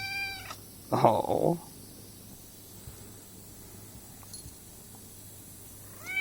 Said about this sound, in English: She's like a brindle cat